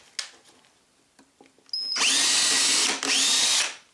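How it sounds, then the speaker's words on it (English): Faint taps, then a power drill with a 1/8-inch bit starts loudly, drilling out pilot holes for pop rivets, and runs for about two seconds with a short dip in the middle before stopping. "use the 1/8 bit to drill the hole out."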